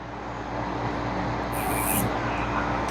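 An electric nail drill whirs at low speed with a steady, soft hum and a faint grinding rub, ending in a brief louder scrape.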